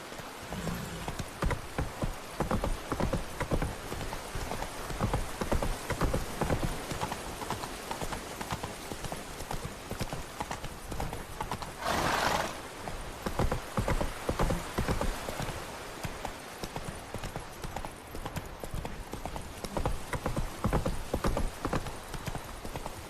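A horse gallops steadily in The Witcher 3 video game, its rapid hoofbeats drumming on and on in a continuous rhythm, with a brief burst of noise midway through.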